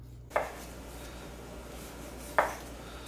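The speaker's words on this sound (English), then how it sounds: "I'm just gonna cut this into nice thin slices" Two distinct knife strokes about two seconds apart, close and crisp, as raw tuna is sliced thin on a board over a quiet room hum.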